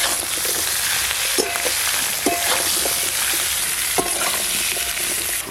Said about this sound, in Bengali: ঝোলের জন্য কেটে ধুয়ে রাখা সজনে ডাঁটা আর আলু ভালো করে একটু ভেজে নেব।